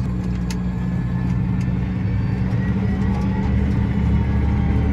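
An older rally car rumbles past up close, its engine drone steady and loud for several seconds with no voices over it.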